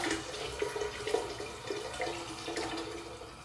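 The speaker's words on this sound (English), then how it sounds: "So I'm going to add water in my pot." Water pours into a cooking pot for chicken breasts, a soft continuous splashing trickle, close and fairly quiet, with no talking.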